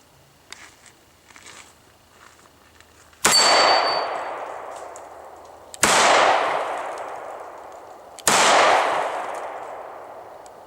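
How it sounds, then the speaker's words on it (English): A Smith & Wesson M&P Shield pistol chambered in .40 S&W fires three loud, sharp shots a couple of seconds apart, each with a long ringing decay, after a few quiet seconds of faint handling noise. "The next 7 rounds that I'm shooting in 40 Smith & Wesson."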